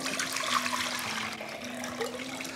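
Cold water pours steadily into a container for a double batch of cold brew coffee, a continuous close splashing rush with a faint steady hum underneath, no talking.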